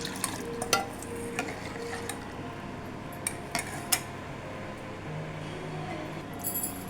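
A spoon stirring strained tamarind water into a rasam mixture in a metal pot: scattered light metallic clinks and scrapes over a soft, continuous liquid swirl, close by and moderately quiet.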